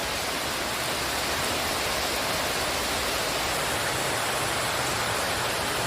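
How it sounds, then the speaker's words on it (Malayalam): Heavy rain pours down in a dense, even, loud hiss that stays unchanged throughout, with no voices. "ആ മഴ നോക്കൂ."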